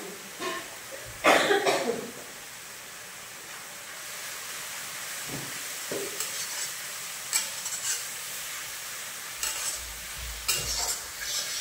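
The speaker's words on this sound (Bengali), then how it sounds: "এবার মশলাটা খুব ভালো মতো কষিয়ে নেব।" Spice masala with salt, coriander, cumin, turmeric and chilli powder being stir-fried in a pan with a little water, a soft continuous sizzle broken by a few sharp spoon scrapes and a brief throat-clearing sound.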